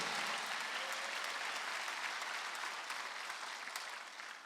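A church congregation claps together during a Wednesday worship service, a steady wash of dense applause that holds throughout and tapers slightly near the end, with no talk over it.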